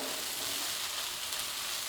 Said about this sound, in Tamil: இப்போது 2 நிமிஷம் நல்லா ஃப்ரை ஆகிடுச்சு.